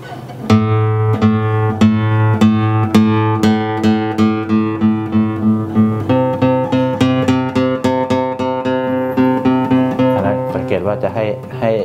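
A J.Godoy J3 acoustic guitar plays a picked line on its bass strings, with repeated low notes moving upward into a quicker, brighter run near the end, close and unaccompanied.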